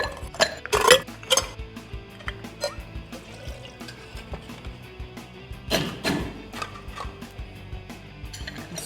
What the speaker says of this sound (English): Add your ice, get mixing.